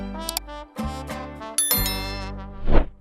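A notification bell rings out in a short series of bright, metallic dings with ringing overtones, each strike decaying quickly before the next, loud and close with no talking.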